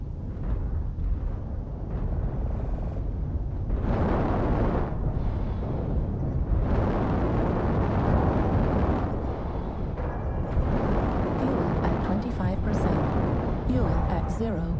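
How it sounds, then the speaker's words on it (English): Artillery strike explosions boom in a video game, with continuous loud rumbling blasts rolling one into another under game voice callouts. "Artillery strike."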